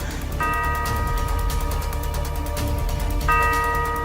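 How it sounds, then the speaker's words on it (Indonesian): A clock in a haunted house chimes twice, each stroke a ringing, sustained tone rising over a steady, noisy background that never falls silent. "Kenapa jam itu bunyi terus? Dia gak berhenti-berhenti bunyi."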